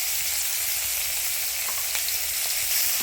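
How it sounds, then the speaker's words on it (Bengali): Tomato with ginger, green chilli, coriander, cumin and pepper paste fries in hot oil for a village-style Bengali vegetable dish, giving a dense continuous sizzle up close with faint stirring, no talking. "এরপর একটু জল দিয়ে, সামান্য পরিমাণে একটু জল দিয়ে ভেজে নেব"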